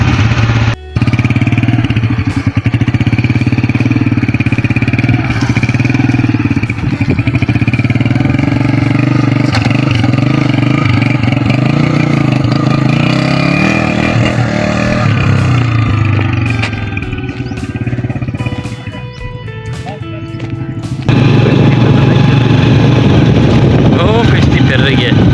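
A motorcycle engine runs steadily on a muddy off-road track near the Indus River, a loud continuous drone throughout with people talking over it, and a brief rougher shift near the end.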